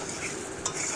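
Fried gaja sweets are lifted one by one from a wok of hot oil, giving a continuous soft sizzle with a brief metallic scrape of the spoon partway through.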